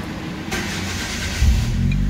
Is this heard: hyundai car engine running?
yes